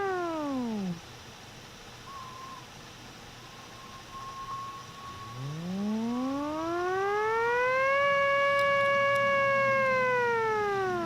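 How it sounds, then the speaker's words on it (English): A factory's end-of-day siren from an old film wails, first falling away, then after a quiet pause rising again into a long, sustained, eerie howl that holds steady at a distance. "End of the day siren."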